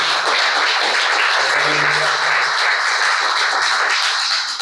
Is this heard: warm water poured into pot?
no